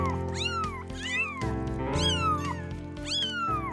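Several kittens meow over and over in high, rising-and-falling cries that repeat about once a second, close and fairly loud, over a low steady background hum.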